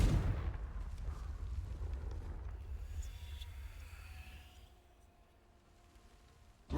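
A Confringo fire spell from Hogwarts Legacy goes off as a booming blast in a video game. The boom hits loud at the start and rumbles low before it fades to near quiet.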